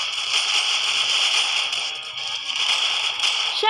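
Rapid video-game gunfire from the zombie shooter Zombie Stories during a live scenario event, a dense continuous crackle of shots sustained loudly throughout without a break, with no voices over it.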